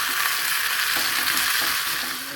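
Tomato hits a hot frying pan and sizzles loudly, a bright continuous hiss broken by a few soft stirring knocks, close and with no voice.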